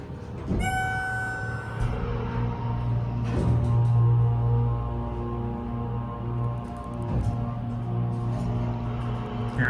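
A steady low mechanical hum with strong tonal drone runs throughout, with a few clunks and knocks along the way, from the motor of a Schindler MT 300A hydraulic elevator.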